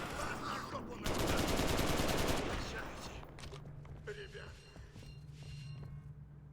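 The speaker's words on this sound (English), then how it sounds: "The machine gun is amazing, but it's obviously doing fuck all damage." A machine gun fires in the open-world game Crackdown, a dense rapid burst of shots lasting about two seconds amid game noise, followed by scattered thuds and effects, with a voice talking over parts of it.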